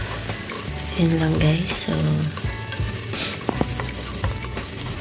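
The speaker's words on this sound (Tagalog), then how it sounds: "i-fry ko lang siya ng kaunti" Food sizzles steadily in a pan while being stirred, with scraping and light clinks over a constant frying hiss, and a voice briefly talks over it.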